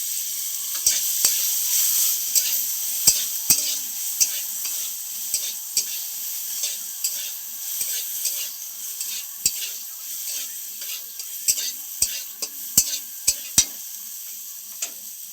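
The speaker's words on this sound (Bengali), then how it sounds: "এরপর কেটে রাখা ভেন্ডিগুলো দিয়ে দিচ্ছি ভালো করে" Okra frying in mustard oil with turmeric, a steady sizzle running throughout with scattered sharp clicks and taps of a spatula against the pan, close by and moderately loud, no voices.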